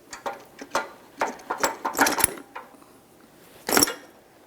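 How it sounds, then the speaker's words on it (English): The front strut of a 2003-2007 Honda Accord is worked down and out of its mount, giving a series of close metallic clicks and knocks followed by a brief pause and then one louder clatter. "Now we'll pull the strut down and out of this."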